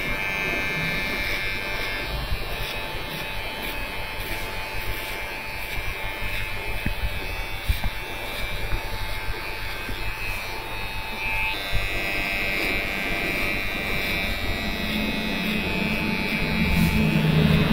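An electric hair trimmer with a number 1 guard buzzes steadily and close while cutting around the side of a head, its drone continuous throughout with slight changes as it moves.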